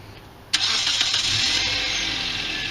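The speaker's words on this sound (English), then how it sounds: "and the car starts" A 2010 Hyundai Elantra, started by remote starter, gives a sharp crank-and-catch before easing into a steady nearby idle with a bright hiss over it.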